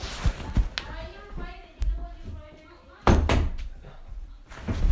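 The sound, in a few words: door closing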